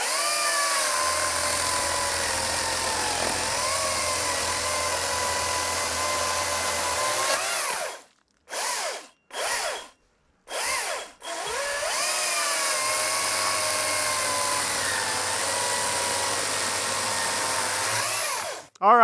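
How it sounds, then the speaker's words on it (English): An electric chainsaw trims a knot off a piece of wood: a loud, steady whine runs for about seven seconds, breaks into several short bursts, then settles into another long, sustained cut. "Back to the electric saw. I'm gonna trim this knot off here real quick."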